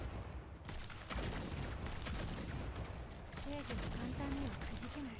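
Dense, sustained gunfire from the Girls Frontline game, a steady crackle of rapid shots running throughout, with a few brief game tones chiming in later.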